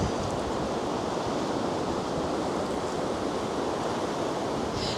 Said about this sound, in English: it's actually scary, that wind